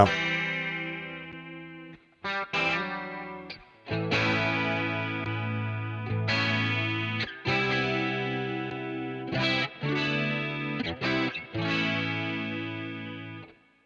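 A PastFx PX65 stereo chorus pedal shapes a guitar played through it, with sustained, shimmering chorused chords and notes ringing steadily, separated by brief gaps, loud and alone.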